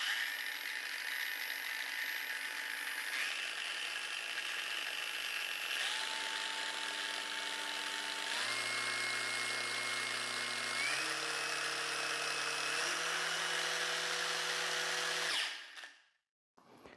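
A Parkside PWSAP 20-Li G7 cordless angle grinder spins with no load, a loud steady whine whose pitch steps through several speed levels before it cuts off abruptly near the end.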